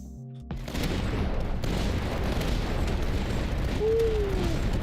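Cannon fire in the Tower Dominion strategy game booms in a dense, continuous barrage of explosions after a brief quiet start, loud and rumbling throughout.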